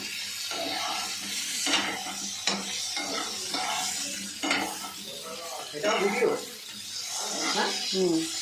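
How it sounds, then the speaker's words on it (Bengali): Potatoes for vegetarian khichuri sizzle in a pan while a utensil stirs and scrapes against it, with soft clinks and a voice speaking now and then. "এবার আলুগুলোও হালকা করে ফ্রাই করে নিচ্ছে।"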